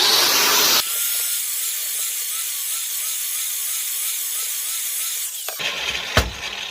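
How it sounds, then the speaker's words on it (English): An angle grinder cuts a 45-degree bevel into steel parts being fabricated into a swage block. A loud, steady hissing grind with a wavering motor whine runs for about five seconds, then cuts off into quieter clatter. "I'm going to use a grinder, and I'm going to put a 45-degree grind on these parts."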